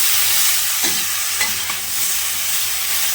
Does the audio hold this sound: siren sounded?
no